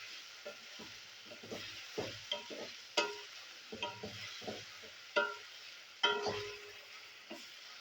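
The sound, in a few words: banana flower frying and stirring with spices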